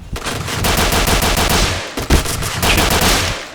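Loud rapid automatic gunfire rattles in a video game shootout, long bursts of closely spaced shots with a brief pause and a heavier bang midway.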